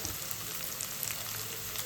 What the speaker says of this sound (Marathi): तिला आपण याच्यामध्ये फ्राय करणार आहोत फोडणीमध्ये।